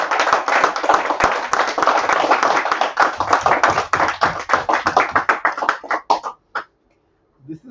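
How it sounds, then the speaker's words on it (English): A meeting audience claps heartily, close and loud. Dense, rapid hand claps run steadily for about six seconds, then thin out into a few scattered final claps and quiet. "Guys, when you are applauding, applaud with your whole heart"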